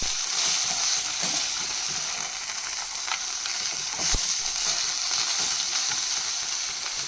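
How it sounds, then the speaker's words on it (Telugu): Mint leaves fry in a hot pan and are stirred now and then, giving a steady close sizzle and hiss with occasional scraping strokes. "మధ్య మధ్యలో ఇలా కలుపుకుంటూ వేయించుకోవాలి"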